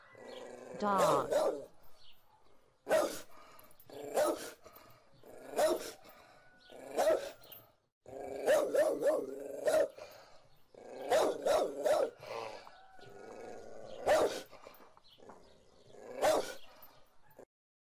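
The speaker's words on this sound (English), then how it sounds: "Dog." Loud, close dog barks come in repeated clusters, interspersed with low growling and brief pauses, and no one speaks.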